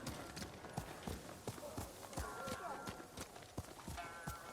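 Horse hooves clip-clopping at a steady trot in the video game Ghost of Tsushima, a regular rhythm of sharp hoof strikes over ambient game sound, close and moderately loud.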